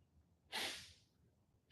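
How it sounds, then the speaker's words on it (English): A person blows their nose in one short, forceful burst lasting about a third of a second, fairly close, followed by quiet breathing and the start of a second blow at the end; no talking. "I had to blow my nose."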